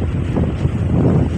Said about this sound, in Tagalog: Sinisipa yung camera natin sa lakas. Malakas yung hangin.